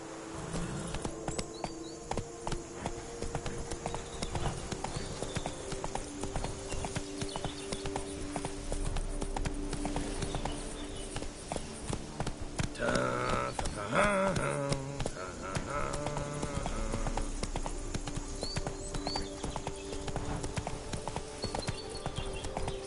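Roach the horse gallops in The Witcher 3, a steady, fairly close clip-clop of hooves that runs throughout, with a few faint game sounds around it and no talk.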